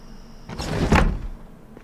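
A window slides shut in the Project Zomboid video game with a close, rising scrape that peaks in a solid thud about midway, then settles back into a quiet background.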